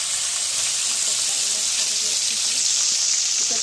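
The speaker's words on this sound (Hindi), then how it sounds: "मैं डाला मछली फ्राई होने के लिए" Fish frying in hot oil for a home-cooked egg curry meal, giving a steady, close sizzle with bright crackling hiss that holds evenly throughout, no talking over it.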